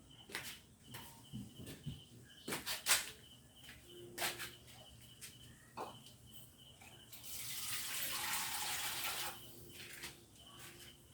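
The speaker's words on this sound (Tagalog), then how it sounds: "Lagyan natin ng tubig guys." Water is poured into a cooking pot with squid to simmer with white squash, a steady rushing pour lasting about two seconds, preceded by light clinks and kitchen clatter.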